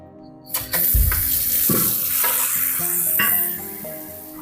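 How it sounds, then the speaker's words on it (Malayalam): A bronze uruli is washed with plain water, with running water splashing and sloshing against the metal, a few clanks and scrapes of the vessel, and steady close-up sound that fades near the end. "ഇനി ഇതൊന്ന് വാഷ് ചെയ്ത് കളയാണ്. നോർമൽ വെള്ളത്തിലാണ് വാഷ് ചെയ്ത് കളയുന്നത്."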